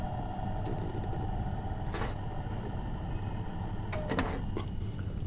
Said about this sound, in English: Forward switch is on, motor is running.